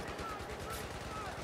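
Magnum revolver firing in Battlefield 4, a steady dense crackle of gunfire and battle noise filling the short stretch, with no clear single shot standing out and a voice faintly present.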